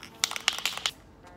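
Spray paint hisses from an aerosol can as a second coat goes onto an Acura TL Type S grille, with several short, close bursts of spray in quick succession before the sound drops away.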